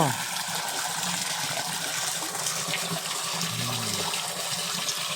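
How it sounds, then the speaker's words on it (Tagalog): Small waterfall flowing into a fish pond, a steady close rush and splash of falling water that runs continuously without pause. "Oh, may falls na sila dyan, ha."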